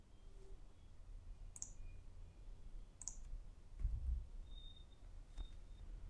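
Computer mouse clicks sound out quietly, a couple of isolated crisp clicks spaced apart over faint room hiss, with a soft low thump partway through.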